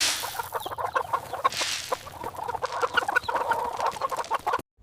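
Cartoon chickens clucking in a coop, a busy overlapping chorus of close, repeated clucks and squawks that continues for several seconds before cutting off abruptly.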